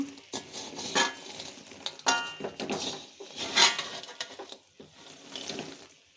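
A spoon scrapes and clanks in a pan while khurma sweets are tossed and turned over after the gas is switched off, making irregular close metallic stirring sounds with short gaps between strokes.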